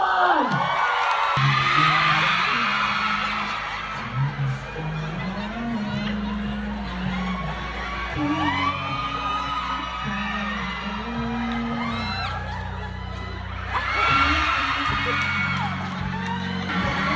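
A crowd aboard a cruise ship sailing from Taiwan to Japan cheers, whoops and shouts loudly and continuously, swelling and then dipping, while a deep rumbling tone and amplified chatter run underneath.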